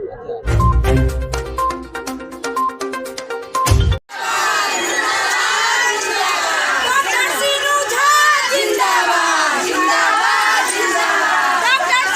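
A crowd of women cheers at a municipal chairperson election rally in Pupri, with loud, dense shouting and cheering that bursts in after a brief musical opening and carries on without a break.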